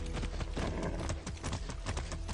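Horse hooves gallop in Far Cry 6, a steady, dense clip-clop rhythm pounding close and loud with no break.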